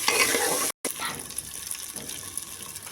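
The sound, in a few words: stir-frying ginger mixture for khichdi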